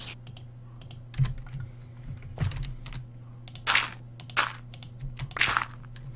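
A computer mouse double-clicks during Minecraft play, the wonky button producing scattered sharp plastic clicks, some in quick pairs, close and crisp over a low steady hum.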